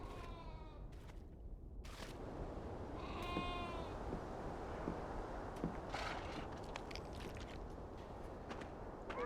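Sheep bleating in the video game Beyond Two Souls, a few short, wavering bleats near the start over a constant outdoor ambience of rustle and soft footsteps.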